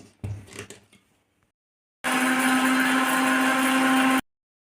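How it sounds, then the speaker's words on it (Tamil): Chillies being ground in a mixer grinder jar: after some soft handling clatter and a short pause, the motor roars loud and steady with a high whine for about two seconds, then cuts off abruptly. "நம்ம முதல் மிளகாயை மிக்சி ஜாரில் சேர்த்து அரைச்சிட்டு"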